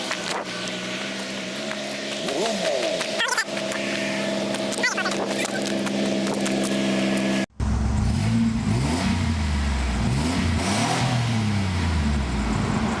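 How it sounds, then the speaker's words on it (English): A V6 engine in the Battle Van revs and drones with shifting pitch, loud and close, with people talking over it throughout. "it's a V6"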